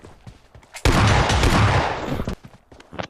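Gunfire in PUBG Mobile Lite, a loud sustained burst of shots lasting about a second and a half, preceded and followed by quieter game sounds and scattered thuds.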